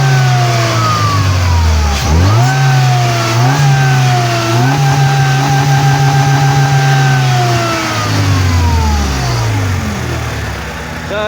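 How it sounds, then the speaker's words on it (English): Supercharged Mercedes CLK from the 1990s, parked in a lay-by, revving loud and close in several rising and falling sweeps, a steady supercharger whine riding above the engine note throughout. "So the supercharger is definitely working."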